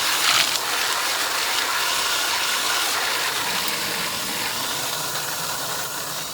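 Water gushes from an opened fertigation bypass valve in a yard watering system, a steady, close, hissing rush that starts with a brief louder burst and then holds constant.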